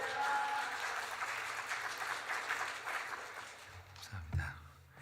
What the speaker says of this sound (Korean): 우리 목사님 나오실 때에 우리 할렐루야 하고 박수로 환영하겠습니다.